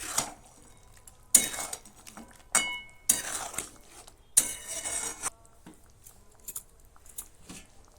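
A utensil scrapes and clanks against a pan while garam masala is stirred into a fish bone curry (vetki kata chochori), in several sharp bursts separated by quieter pauses. No voices are heard.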